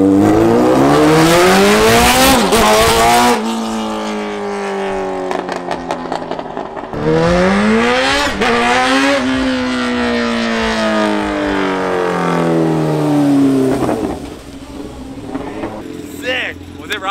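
A race cart running on wheelie bars in race mode revs hard, its engine pitch climbing and dropping in several sweeping pulls with brief lulls between. The engine stays loud and close, with voices at times.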